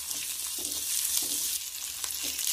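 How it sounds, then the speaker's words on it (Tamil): Shallots, coconut and tamarind sautéing in a pan, with a steady close sizzle and soft stirring scrapes recurring at a slow rhythm. "நல்லா வணக்கி விடுங்க."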